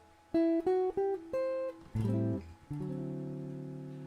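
Clean plucked notes ring out one at a time with uneven spacing, then a low chord swells and sustains, a slow, freely timed melody on solo guitar.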